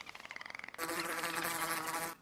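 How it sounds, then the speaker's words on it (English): A bee from the Minecraft MoCreatures mod buzzing, first a pulsing flutter of wingbeats, then a loud continuous droning hum close by, with no talk. "So that's a bee."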